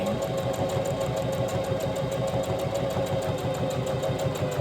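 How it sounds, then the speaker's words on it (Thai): A sewing machine stitches a buttonhole with a continuous, evenly pulsing needle rhythm, close and moderately loud throughout, with no voices. "แล้วก็หมุนมาที่หมายเลขสองรังกระดุมก็จะเย็บไปเรื่อย"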